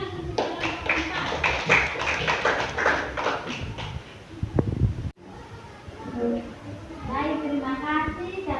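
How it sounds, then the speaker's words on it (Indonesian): Classroom audience applauding a presenting group: quick, rhythmic clapping of several hands for a few seconds, then a cut, with voices talking afterward. "tepuk tangan untuk kelompok 4"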